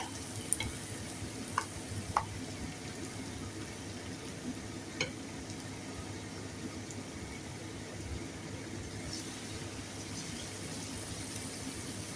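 Banana fritters (pazhampori) fry in hot oil with a steady, soft, continuous sizzle, and a few sharp clinks of a utensil sound early on.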